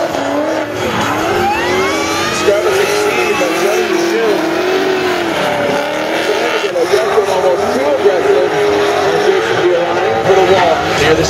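Formula D Pro Am drift cars at full throttle, loud sustained engine screaming with rising and falling revs and tire skids throughout, under continuous excited commentary.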